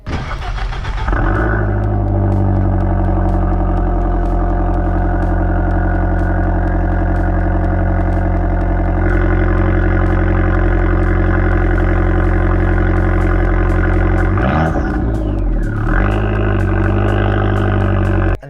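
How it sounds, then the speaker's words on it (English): Abarth 595 Essesse fitted with a full titanium Akrapovic exhaust and twin wide-bore tips fires up with a loud bark, then settles into a deep, steady idle close by, with one brief rev rising and falling near the end. "this is a full titanium system, front to back, nice back box, two big wide bore exhausts, and this is what it sounds like on startup"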